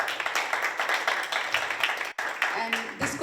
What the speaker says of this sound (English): So can you please give a big round of applause to our temple management.